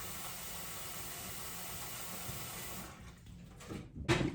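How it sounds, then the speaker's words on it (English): Steady broadband rush of hot tap water filling a pot at a sink, continuous for several seconds, then tapering off with a few clunks at the end. "I'm going to take it over to the sink and fill it up with water"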